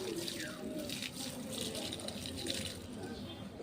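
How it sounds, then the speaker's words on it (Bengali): Water is poured onto a red hibiscus plant in a garden, a soft, continuous trickle and splash that stays faint and steady throughout. "জল নিয়ে এলাম, এবার গাছে জলগুলো দিয়ে দিব।"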